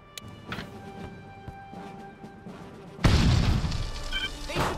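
A thrown grenade explodes in the Xbox squad-tactics game Full Spectrum Warrior, a sudden loud, close boom with a rumbling tail, after a stretch of quieter ambient noise and faint voices.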